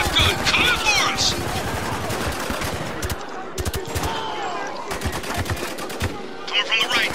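Rapid gunfire and machine-gun bursts from the military shooter video game Spec Ops: The Line, loud and dense throughout, with shouted voices cutting in between the volleys.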